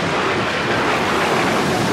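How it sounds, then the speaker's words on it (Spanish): Rough surf of the Bering Sea in a cartoon churns and crashes in a dense, continuous roar, loud and close, with wind rushing over it. "¡Estas olas podrían volcarnos!"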